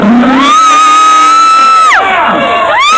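At a hypnotist show at the Arizona State Fair, the crowd lets out a loud sustained cheer, with one voice holding a long whooping shout that dips and rises again, close and intense throughout.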